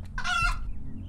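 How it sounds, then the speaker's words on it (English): A chicken squawks when stomped on in the hunting video game Poached, one short loud strained cluck, close and alone over faint game ambience. "I stomped on a chicken again."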